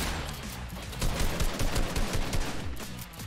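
Rapid bursts of Fortnite gunfire crackle in dense volleys, loud and close, with overlapping shots and no voices.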